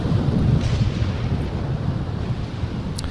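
A thunderstorm in The Sims 4 rumbles as a steady low roar of rain and wind, with distant thunder under it and no clear sharp cracks, continuous and moderately loud.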